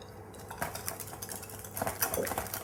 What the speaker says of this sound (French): On mélange bien à l'aide d'un fouet.